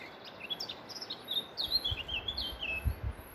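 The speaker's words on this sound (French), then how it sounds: "il y a des oiseaux qui chantent là, qui sont super contents" Several small birds chirp and sing outdoors in a quiet spot, with high, fluttering tweets running steadily through the moment. Faint low thumps sit underneath the song.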